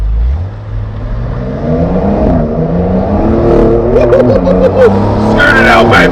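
A Porsche 911 accelerates hard on a road as the tail slides out, the engine climbing in pitch close by, with a few brief voice bursts near the end.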